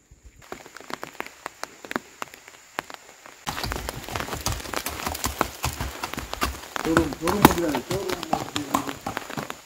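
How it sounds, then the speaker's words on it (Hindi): Light rain falls in dense forest at Matheran hill station, sharp scattered drop taps on leaves and surfaces becoming denser and louder partway through, with faint background activity. "घने जंगल में कुछ दूर चलने के बाद हल्का हल्का बारिश शुरू हो गया"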